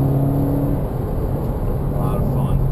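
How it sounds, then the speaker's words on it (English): A car engine held at full throttle above 4,500 RPM gives a loud, steady, close roar with a sustained droning pitch, while someone speaks briefly over it. "All right, rev it up, floor it up."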